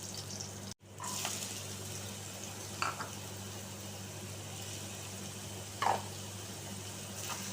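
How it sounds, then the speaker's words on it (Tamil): Onion, carrot and beans fry in hot oil in a pan with a steady, even sizzle. Two brief stirring scrapes break through the hiss, and no one speaks. "ஆயில் காஞ்சிருச்சு, இப்போ ஆனியன் போட்டுக்கலாம். இதோட இப்போ கேரட்டும் பீன்ஸையும் ஆட் பண்ணிக்கலாம்."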